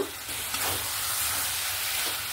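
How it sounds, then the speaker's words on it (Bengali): Banana flower ghonto with prawns, just uncovered after simmering under a lid, sizzles steadily in a pan while it is stirred, giving a continuous broadband frying hiss with faint scraping of the utensil throughout, close and moderately loud, with no talking. "আবারও ভালো করে নাড়াচাড়া করে নিচ্ছি।"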